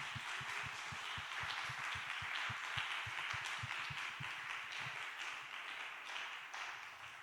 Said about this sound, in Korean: 오, 박수가 꽤 기네요